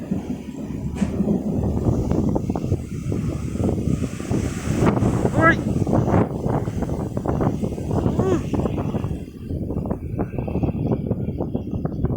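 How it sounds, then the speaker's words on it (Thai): Strong gusting wind roars and buffets the microphone, with a steady wash of heavy rain underneath; a voice speaks briefly amid the noise. "ทั้งลมทั้งฝนแล้วมั้"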